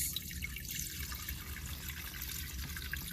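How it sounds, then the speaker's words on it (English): Fresh green juice pours from a juicer vessel into a bowl in a soft, continuous trickling stream, quiet and close, with faint splashes and no talking. "I'm going to pour this beautiful green juice"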